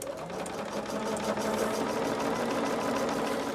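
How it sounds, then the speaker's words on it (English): A sewing machine stitching a quilt seam runs steadily at close range, an even rapid mechanical whir with a fine rhythmic patter throughout. "I'm going to just turn it and sew it from the other side."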